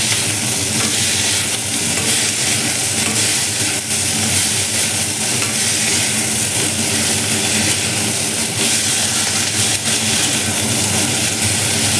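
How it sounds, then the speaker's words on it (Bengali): Food fries in a pan on a home stove with a loud, steady sizzle and hiss that continues unbroken throughout, with no talking. "এটা একটু ভেজে নিই ভালো করে।"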